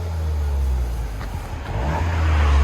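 A VW GLI 2.0L turbo engine, manual, hums steadily and then revs up toward the end, heard from inside the car, with a low rumble throughout.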